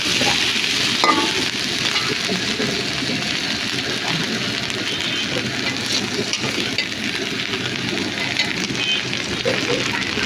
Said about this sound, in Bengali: আলুগুলো আমি দিয়ে দিলাম পেঁয়াজের মধ্যে